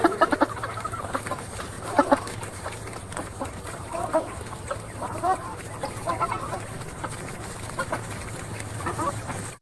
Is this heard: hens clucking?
yes